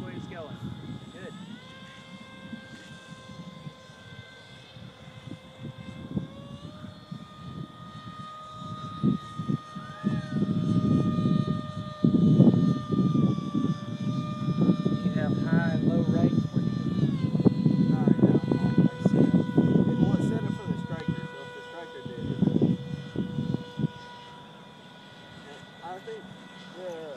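An RC model F-117 jet airplane on its maiden flight whines overhead, its pitch rising and falling as the throttle changes and loudness swelling and fading, with people talking throughout.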